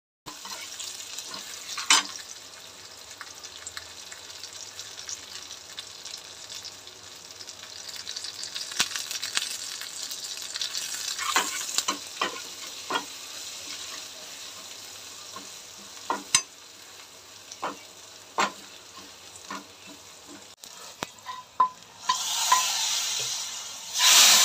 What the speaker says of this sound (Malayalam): കടുകിട്ട് ഉള്ളി, കറിവേപ്പില, ഇനി ഇച്ചിരി കായപ്പൊടിയും കൂടെ ചേർക്കും.